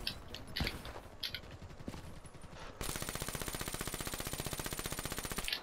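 Call of Duty Black Ops 3 gunfire opens with scattered single shots, then a long, rapid, evenly spaced automatic burst that stays loud to the end.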